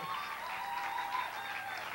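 Audience applause for a keyboard player being introduced with the backing band, a soft, steady patter of clapping lasting a couple of seconds, fairly distant and low in level.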